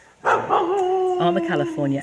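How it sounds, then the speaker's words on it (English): A dog next door in a garden with avocado and breadfruit trees gives drawn-out howling barks and yips, fairly close and loud, with a voice mixed in. "that dog next door"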